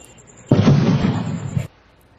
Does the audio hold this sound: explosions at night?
yes